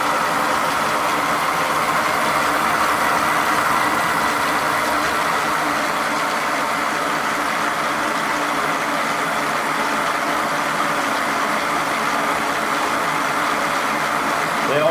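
Rotor of a Searl effect generator driven by electromagnets spins at roughly 150 to 180 RPM, giving a continuous steady hum and whirring drone that holds evenly for about fifteen seconds at close range.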